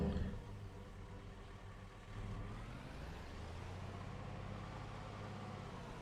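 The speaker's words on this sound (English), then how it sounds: "I don't know why an electric van needs to have exhaust sounds, but it does" Electric van in a farm-building video game giving off a steady synthetic exhaust drone, a low engine-like hum that holds constant with a slight dip and swell partway through.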